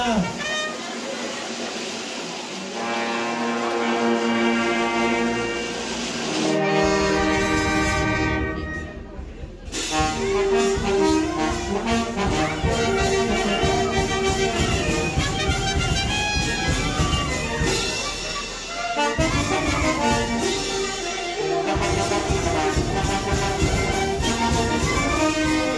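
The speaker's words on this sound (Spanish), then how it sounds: "le pedimos de la banda una Diana" A live band plays a Diana fanfare at an 80th birthday celebration in Santiago Camotlán, Oaxaca: loud, sustained brass and drums with a brief gap near the middle, continuing steadily to the end.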